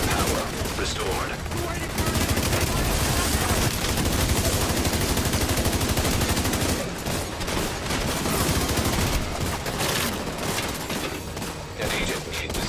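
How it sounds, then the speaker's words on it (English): Minigun fire in the video game The Division 2, a loud, dense, continuous rattle of rapid shots that runs almost the whole time, with game voices talking over parts of it. "Minigun power restored."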